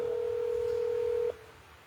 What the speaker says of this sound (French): J'ai rappelé Céleste.